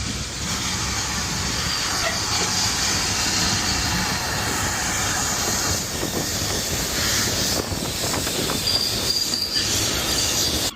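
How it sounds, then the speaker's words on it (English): Preserved train at a railway station near Westward Ho, a loud continuous rumble with metallic wheel squeal and hiss, heard up close and steady without distinct chuffs. "you can hear the chuff, chuff, chuff of the steam chain"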